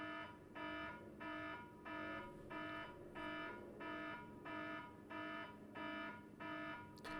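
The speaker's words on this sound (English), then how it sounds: "All of a sudden, an alarm goes off." An alarm in the Ever17 game goes off as a repeating electronic tone, sounding in even pulses roughly every half second for seven seconds at a steady level, with no talk over it.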